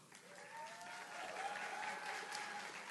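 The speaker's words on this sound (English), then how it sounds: "Please give a warm round of applause to Mr." An audience at a university School of Education pinning ceremony applauds steadily, a full, even round of clapping from a crowd that holds for several seconds in a large room.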